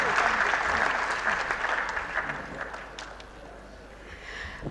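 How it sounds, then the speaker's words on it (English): Audience applause after an annual maritime studies lecture, a dense burst of hand clapping from a seated crowd that starts strong and gradually thins and fades over a few seconds. "Please, let's give her another round of applause."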